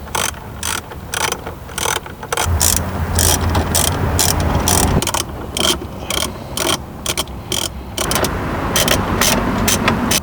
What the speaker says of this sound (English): You'll use a 10mm socket and an extension for these.